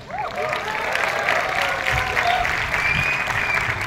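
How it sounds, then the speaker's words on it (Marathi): An audience at an annual day event claps steadily and loudly for the full length, a dense sustained applause with a faint crowd murmur beneath. "टाळ्यांचा आवाज थांबला नाही पाहिजे"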